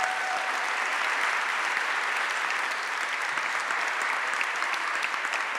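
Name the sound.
applause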